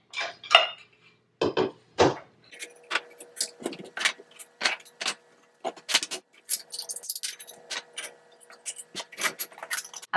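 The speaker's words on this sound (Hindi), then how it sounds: "डिश वॉशर से साफ बर्तन निकाल लिया जाए।" Clean dishes unloaded from a dishwasher in a home kitchen, a busy run of close clinks and clatters of plates, cups and cutlery knocking together in quick irregular bursts.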